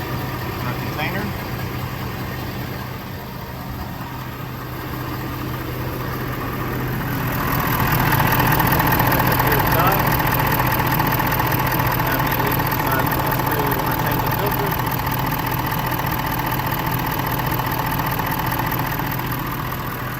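A 2022 Ford Super Duty diesel truck engine idles steadily with a low, continuous rumble that grows a little louder partway through, with some talking over it.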